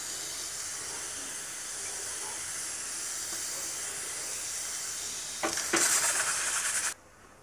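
Water splashed onto jowar bhakri on a hot griddle sizzles with a steady close hiss, then flares into a louder, sharper burst of steam for over a second before cutting off abruptly, with no voices.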